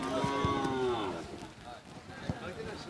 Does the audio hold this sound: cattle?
yes